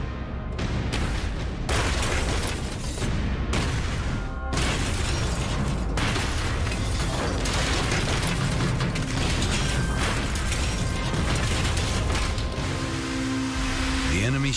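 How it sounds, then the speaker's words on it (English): A barrage of depth charges bursts near a submarine in the Pacific during the Second World War, heavy booms and rattling impacts coming in dense repeated waves, loud and continuous throughout. "The attacker drops a second barrage."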